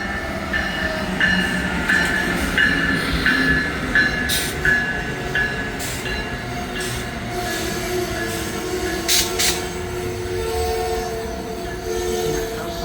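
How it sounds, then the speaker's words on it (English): An Amtrak Northeast Regional train rolls into Metropark station on the Northeast Corridor during the evening rush, with a steady rumble of wheels and cars, faint squealing wheels and scattered high clanks, loud and continuous throughout. "looks like we got an Amtrak train that's about to stop here as well"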